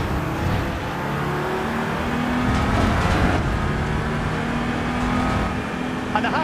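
A loud race car engine at Brands Hatch in the racing game Assetto Corsa Evo drones steadily and swells as it revs in first gear on cold tyres, with no talk over it.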